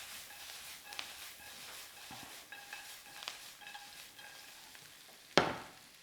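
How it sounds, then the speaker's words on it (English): Pad thai stir-frying in a hot wok, a steady close sizzle and crackle with stirring scrapes throughout, ending in a sharp louder burst of sizzling near the end. "I'm going to add it to the wok and swirl it around once again."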